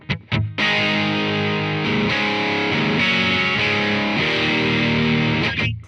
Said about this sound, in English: I get a Marshall Plexi type sound